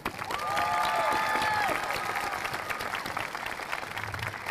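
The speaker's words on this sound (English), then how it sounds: "Let's give it a round of applause for junior marshals." Crowd applause and cheering for junior marshals at a high school commencement, a broad steady clapping with a few whistles near the start that eases slightly toward the end.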